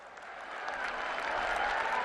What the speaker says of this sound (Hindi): जोरदार तालियों के साथ आप अभिनंदन करें, स्वागत करें